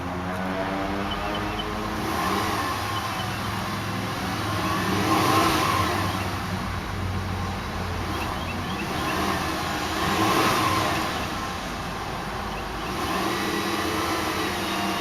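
A 2005 Volkswagen Jetta with the 2.5-liter five-cylinder engine runs with a steady drone that swells and falls in a few slow revving surges, close and continuous.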